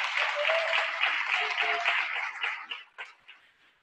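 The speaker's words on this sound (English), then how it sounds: "Ladies and gentlemen, a round of applause." Audience applause at the opening of a conference keynote session fills the room with a dense wash of clapping, then thins into a few scattered final claps before fading out.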